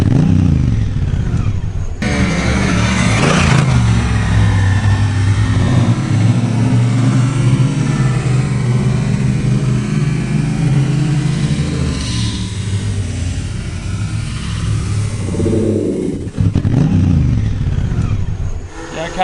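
A motorcycle engine drones loud and steady while sliding across an outback hilltop and then crashing, slowed down so the sound is deep and stretched, with sharp sweeping bursts near the start and end.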